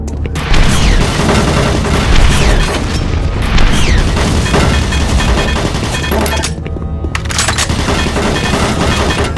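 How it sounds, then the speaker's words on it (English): Automated turret guns in the Doom 3 BFG Edition game fire in dense, continuous bursts of booming rapid gunfire that stay loud and steady throughout, with only a brief thinning near the end. "Warning, automated turret guns online."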